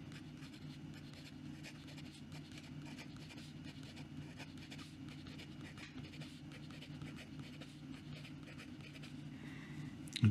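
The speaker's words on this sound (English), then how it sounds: "Now let's see some quick writing here." A fake Parker Sonnet fountain pen scratches quickly across paper in continuous close, faint strokes with a soft rhythmic texture and no speech.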